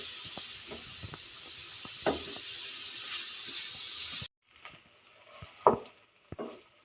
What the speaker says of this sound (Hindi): बस आलूओं के गल जाने तक हम इसे पकाएंगे